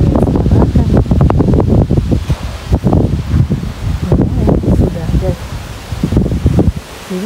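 Strong gusts buffet the microphone in a garden with iris and peony beds on a windy late-May day, with leaves rustling steadily underneath and a voice speaking at times through the roar.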